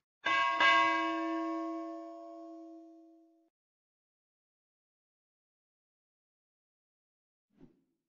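A single bright bell chime used as a notification sound effect rings out and fades over about three seconds, followed by a faint tick several seconds later.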